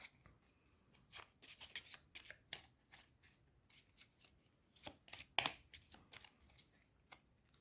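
A deck of cards for the solo board game Vendredi (Friday) being shuffled by hand, with repeated quick riffling bursts and crisp flicks spread across the clip, close and fairly quiet with no talking.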